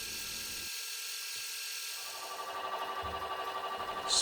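A metal lathe whirs steadily with a high whine as it turns a small engine part, briefly quieting before resuming with a pulsing, rhythmic cutting sound.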